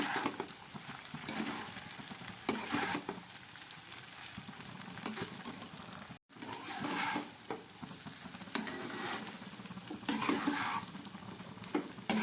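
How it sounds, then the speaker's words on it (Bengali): Vegetable rice made with fragrant Gobindobhog rice is stirred gently in a frying pan, with steady sizzling and a spatula scraping and tossing the grains in repeated strokes, close and continuous, broken by one brief silent gap. "এবার খুব আলতো করে করে এটাকে নেড়ে দিতে হবে।"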